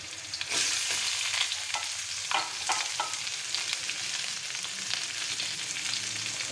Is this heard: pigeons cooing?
no